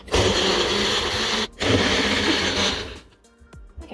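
A blender whirs loudly as it mixes a drink, a dense steady motor roar with a brief break partway through, then it winds down and stops.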